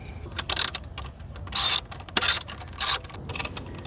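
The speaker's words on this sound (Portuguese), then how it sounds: "Então vamos pegar aqui, ó o soquete da chave Allen." Loud, close ratcheting bursts from a ratchet fitted with an Allen key socket turning a bolt on a Kawasaki Versys 650 motorcycle, several short clicking runs separated by brief pauses.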